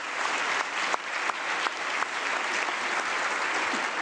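An audience at a closing session applauds a circle of student helpers, a steady, dense wash of many hands clapping close by, sustained evenly throughout with no voices standing out.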